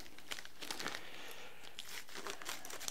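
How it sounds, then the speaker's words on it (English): Packets being cut open with scissors in a kitchen while storing food with oxygen absorbers, giving faint, close crinkling and snipping rustles scattered across a few seconds without talk. "Cut those open, take out an oxygen absorber, and put it in there right along with that."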